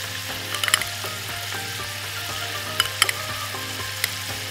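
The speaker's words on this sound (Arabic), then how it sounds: "وادي الزبده والزيت عندنا اهو ابتدوا يسخنوا." Flour cooking in melted butter and oil for a béchamel sauce, a steady close sizzle and fry with faint scraping and stirring clicks from a utensil in the pan, no voices.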